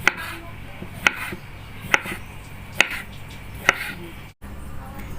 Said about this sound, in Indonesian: timunnya kita potong-potong ya guys